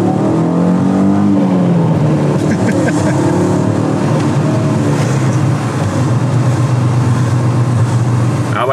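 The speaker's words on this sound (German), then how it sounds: "der 5-Zylinder-Sound kommt hier erst so richtig, richtig durch, wenn du hier einen Ausbruch drunter machst" VW Passat 32b Syncro with a five-cylinder engine revving, a loud sustained rumbling drone whose pitch sweeps up early then holds a steady throaty tone, heard close with some background noise.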